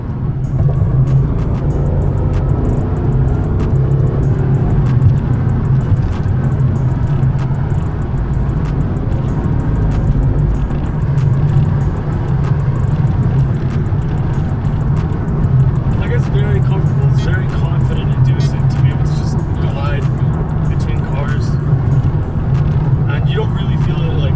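A 2006 Mercedes-Benz CLS55 AMG fitted with BC Racing coilovers cruises at speed, heard from inside as a loud, steady rumble of engine and road noise. A voice talks over it.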